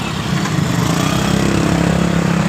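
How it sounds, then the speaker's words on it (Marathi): A broken-down diesel city bus in a traffic jam has its engine pumped as the driver tries to restart it, giving a close, loud, steady droning hum that holds without a break. "हे ड्रायव्हर गाडीला पंप मारून बघताना"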